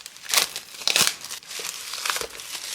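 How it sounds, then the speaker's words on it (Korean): Plastic wrap crinkles and tears as a K-pop album, photo case version, is torn open by hand, with close, crisp crackling bursts in quick succession. "앨범을 뜯어볼 건데 포토 케이스 버전부터 뜯어볼게요"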